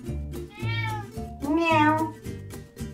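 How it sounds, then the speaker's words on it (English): A cat meows repeatedly at close range, several drawn-out, rising-and-falling cries separated by short pauses and quieter sounds. "Meow. Meow."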